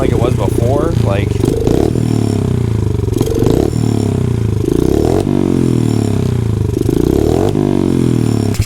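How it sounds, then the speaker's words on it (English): Honda CRF50 dirt bike with a big bore kit and a slightly undersized carburetor, its engine idling steadily up close with a loud, even, low putter and occasional light revs, with someone talking over it. "now it idles. It's not popping like it was before."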